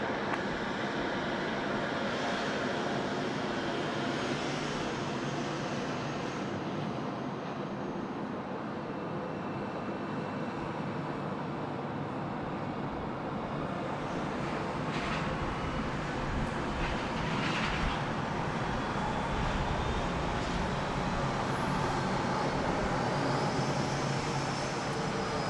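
An airliner on approach to land at Sydney Airport roars in a broad, sustained jet rush heard from a distance, the engine noise swelling and steady for the whole stretch, loud and without voices.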